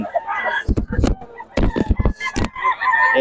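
A Boston Sweater gamefowl rooster at a Bocaue market gives loud, close clucking and crowing-like bursts in several short clustered calls, with people's voices mixed in around them.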